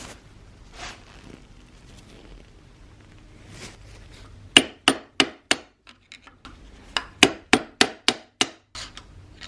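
Sharp metal hammer strikes punching a wavy washer into the groove of a 1990 Saab 900 steering rack, a quiet lead-in followed by a run of about a dozen loud, close, irregularly spaced impacts.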